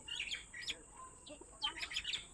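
Small birds chirp and squawk near a house in a quiet setting, with several short bright calls in loose bursts at moderate distance and no talk.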